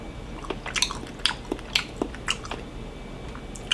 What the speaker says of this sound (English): I'm talking about like forced smacking.